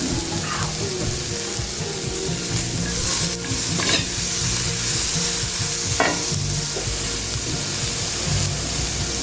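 Green seasoning sizzles steadily in a hot pot of breadfruit oil down and curried fish as it is stirred in, a continuous broadband frying hiss with a few soft scraping strokes.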